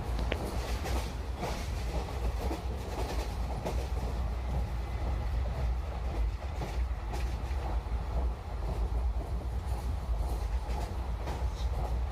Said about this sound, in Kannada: ನಮ್ಮ ಟ್ರೈನ್ ಹಾಸನ ಜಂಕ್ಷನಿಂದ ಹೊರಟಿದೆ